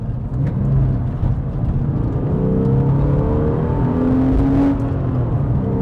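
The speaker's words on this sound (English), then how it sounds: "This is flaps closed. It's got a really throaty sound." A Porsche 911 996 C4S idling with its exhaust flaps closed, giving a steady, deep, throaty rumble that stays low and constant at close range.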